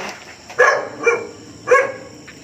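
Three loud, close dog barks come in quick succession, separated by brief pauses, with faint background noise between them.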